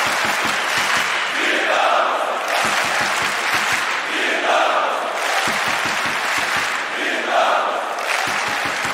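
A large crowd chants and cheers in rhythmic bursts, with repeated clapping and shouting swelling and fading across several cycles, loud and dense with no single voice standing out.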